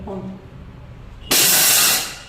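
A mixer grinder whirs loudly after a brief pause, grinding cashews alone into powder with a bright, dense hiss that starts suddenly and fades slightly near the end.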